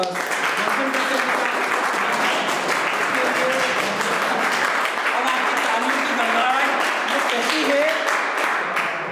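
An audience at a first-aid training session applauds loudly and continuously, while someone talks over the clapping.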